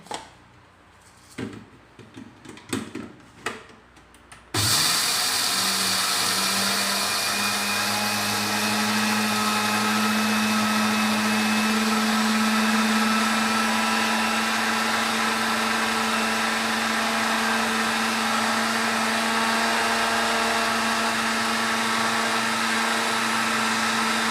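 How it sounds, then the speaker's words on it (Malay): A few brief clicks and rattles, then a dry blender roars to life grinding rice, loud and steady at a constant whine for a long stretch. "Kita guna blender kering untuk blend beras ini"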